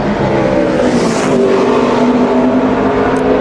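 A NASCAR Nationwide Series race car roars through a qualifying lap at Bristol Motor Speedway in 2010, a loud, sustained engine drone that swells as the car sweeps by, with a steady wash of track noise and no talk.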